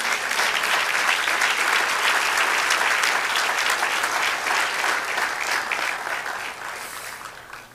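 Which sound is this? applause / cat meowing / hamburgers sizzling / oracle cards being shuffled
applause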